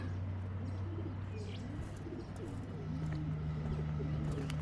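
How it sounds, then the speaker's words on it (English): Pigeons coo repeatedly under the old Wilcannia Bridge, an 1896 structure over the Darling River, with soft, rolling calls close by over a steady low hum and occasional chirps. "Now she's home to the pigeons."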